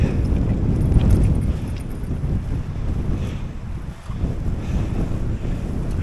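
Heavy wind after a storm buffets a phone microphone in a constant low rumble, gusting stronger early on and briefly dipping near the end.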